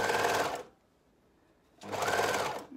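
An overlocker runs in two short bursts separated by a pause while serging the neckband of an Eva tee, close and loud with a whirring buzz.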